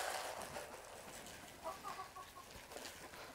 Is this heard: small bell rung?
no